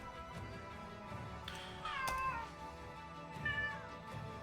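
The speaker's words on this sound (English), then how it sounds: "Yes, cat." A house cat meows indoors, a couple of drawn-out, rising-and-falling cries spaced a second or so apart, fairly close and clear over quiet room tone.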